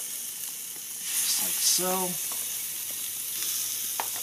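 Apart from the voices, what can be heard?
lamb chops sizzling on oiled grill grates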